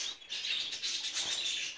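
Small finches in an aviary, with diamond firetails and society finches kept there, chirping in quick high tweets, soft and fairly close, with no talk.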